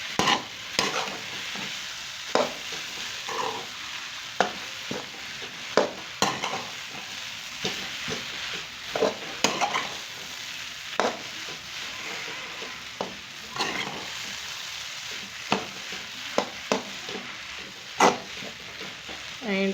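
Semolina for suji halwa roasts in a pan with a soft steady sizzle, punctuated by regular sharp scrapes and taps of a spoon stirring it, close and fairly quiet, no talking.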